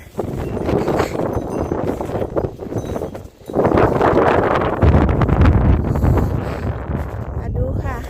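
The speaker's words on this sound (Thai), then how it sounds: "ลมแรงมากจ้ะ อันนี้คือวันนี้มันมีลมค่ะ" Strong wind gusting outdoors in winter, buffeting the microphone with a loud, continuous roar that dips briefly and then surges back, with someone talking over it.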